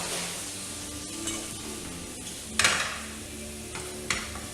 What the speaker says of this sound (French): Je remue tout cela. Mon oignon est au fond, tout va bien.